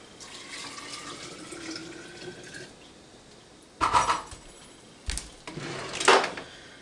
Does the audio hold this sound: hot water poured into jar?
yes